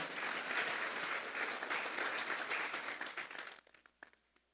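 A church congregation clapping in unison as an offering of applause to God, a dense, steady burst of many hands that thins to a few scattered claps and fades out.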